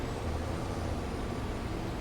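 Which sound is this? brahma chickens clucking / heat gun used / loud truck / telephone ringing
loud truck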